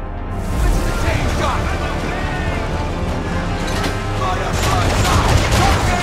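Chain shot cannon fire from a sailing ship in the video game Assassin's Creed III, a rolling barrage of booms and crackling volleys over sea ambience that swells again near the end, with someone talking at times.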